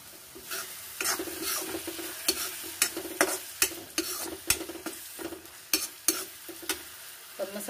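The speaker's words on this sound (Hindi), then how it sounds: "इसको अच्छे से पकाएंगे, यानी ऑयल इसका सेपरेट हो जाए तब तक हमने इस मसाले को पकाना है।" Masala sizzles in hot oil for a raw banana curry while a spoon stirs it in the pan. The rhythmic scraping strokes recur about once a second over a steady, close frying hiss.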